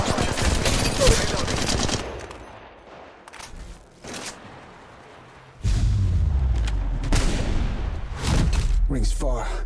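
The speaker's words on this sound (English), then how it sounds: "Getting shot at." Bursts of automatic gunfire and rapid shots in Apex Legends Mobile, loud clusters early and late with a quieter gap between, heavy thumps underneath, and voice lines mixed in.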